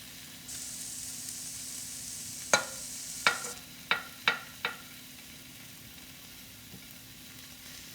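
BBQ chicken and zucchini pieces sizzle on a hot griddle, a bright hiss for a few seconds, then five quick sharp taps of a utensil turning them before the cooking settles to a quiet background.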